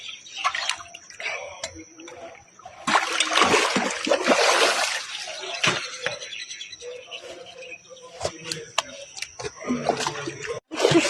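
Water splashes in a swimming pool as someone learns to swim. Loud, irregular sloshes and slaps come in bursts close by, with people talking throughout.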